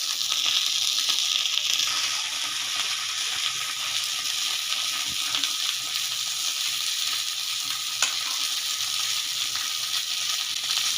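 Moringa drumsticks fry in a pan with a steady, close hiss of sizzling oil that stays even throughout, with a few faint stirring clicks and no talk.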